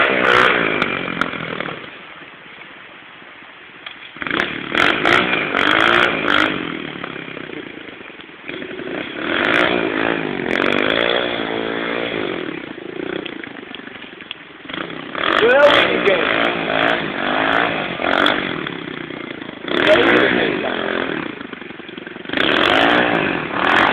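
A 110cc pit bike engine screams in repeated high-pitched, buzzy bursts as the rider tries a wheelie, the throttle snapping open and closing in uneven blips over about half a minute.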